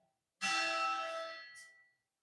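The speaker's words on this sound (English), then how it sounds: "Waiting for the bell to end." A single bell strikes once and rings out with a bright, clear tone that fades over about a second and a half, alone in an otherwise quiet room.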